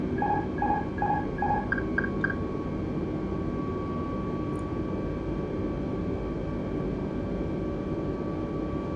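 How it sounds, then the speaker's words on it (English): Airbus A320 autopilot disconnect warning in Microsoft Flight Simulator, a repeating cavalry-charge chime of quick beeping tones over a steady cockpit engine drone, stopping after about two seconds while the drone continues. "And we'll disconnect the autopilot."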